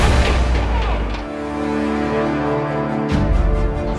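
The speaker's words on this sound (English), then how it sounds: "I can hear explosions" Deep, rumbling explosions boom nearby, one burst at the start and another a few seconds later, over a noisy, cluttered background.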